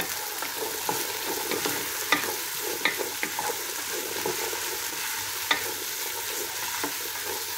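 Potatoes frying in a pan with oil, a steady close sizzle broken by occasional sharp pops and light stirring clatter, with no talking.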